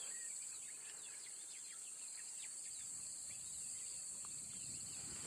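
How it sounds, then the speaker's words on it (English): Cicadas and other insects buzz in a steady, continuous high drone outdoors in nature after rain, with scattered chirps layered on top and no voices. "You can probably hear the insects,"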